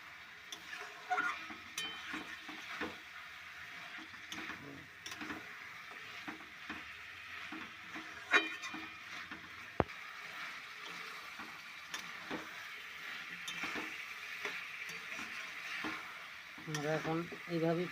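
Meat and cauliflower being stir-fried in a pan, a low continuous sizzle with scraping stirs and occasional clicks of the utensil, steady and fairly quiet throughout.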